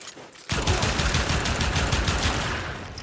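Warframe's Pyrana Prime pistol firing: a sudden, loud barrage of rapid, closely spaced shotgun-like blasts that starts abruptly and keeps a steady rhythm before tapering slightly at the end.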